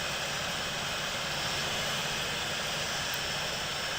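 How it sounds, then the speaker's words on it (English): Air France A318 jet engine spooling up in the Infinite Flight simulator, a steady broadband roar with a high whine held evenly throughout, no talking. "Alright, let's turn on engine 1."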